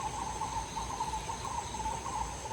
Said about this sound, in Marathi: संध्याकाळचा आवाज म्हणजे मस्तपैकी पक्ष्यांचा आवाज जबरदस्त